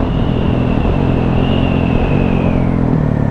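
KTM 690 SMC single-cylinder supermoto engine running loud and steady at close range while the rider shifts into third gear, with a rising whine and continuous rumble and no talk.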